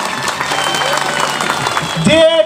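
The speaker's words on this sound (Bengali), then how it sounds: "জোর তার হাততালি।" A burst of loud applause from an event audience, clapping under a voice speaking over it, cut off near the end.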